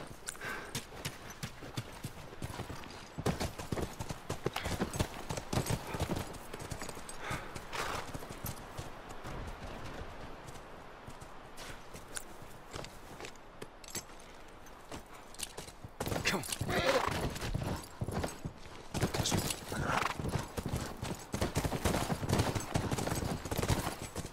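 Hooves clip-clop in an irregular, continuous rhythm in the video game The Last of Us Remastered. Faint gunfire crackles in the background and a few horse snorts come through.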